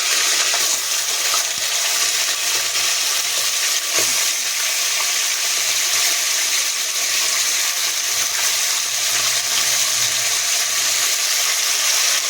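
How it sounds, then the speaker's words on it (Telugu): Chicken pieces fry in hot oil inside a pressure cooker for chicken curry, giving a steady, close hiss and crackle of sizzling with occasional stirring clinks. "ఇట్లా చికెన్ ఆయిల్లో వేగుతుంది"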